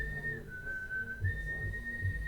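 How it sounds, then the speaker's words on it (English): A person whistles while inhaling, holding a single thin, steady high note for a couple of seconds with a small pitch dip partway through, close and alone. "I inhale when I whistle."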